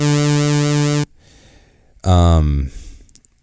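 A steady buzzy MPC3 Odyssey synthesizer tone wobbling slowly in pitch from an LFO, cut off abruptly, then a short burst of a bright sweeping synth sound after a quiet gap.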